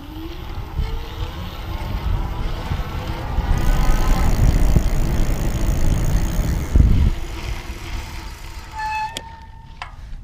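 Magnum Mi5 electric bike hub motor whirring up and cutting out as pedaling starts and stops, a rising electric whine over steady outdoor rumble and wind, with a couple of sharp clicks near the end.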